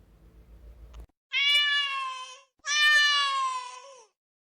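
A cat meows twice, long drawn-out wailing calls close up, after a brief low hum at the start.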